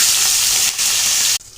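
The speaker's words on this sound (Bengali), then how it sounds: "তেল দিয়েছি, মাছটা দিয়ে দিলাম।" A fish head salted and coated in turmeric sizzles loudly in hot oil, a dense continuous hiss that briefly dips and then cuts off abruptly near the end.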